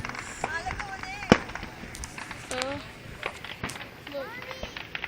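Fireworks exploding in the Minecraft video game, with a sharp burst near the middle and scattered crackling pops, heard under an excited voice talking throughout.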